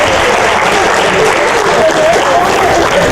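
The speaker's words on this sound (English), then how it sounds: "I need to hear rounds of applause." A room full of people at a football players' talk breaking into loud sustained applause, dense steady clapping with some crowd voices mixed in throughout.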